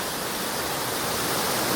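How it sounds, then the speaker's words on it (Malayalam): A waterfall at Chengara pours down in a steady, dense rush of white noise, close and even throughout, with no voices over it. "അടിപൊളിയായിട്ടാണ് വെള്ളച്ചാട്ടം കേട്ടോ"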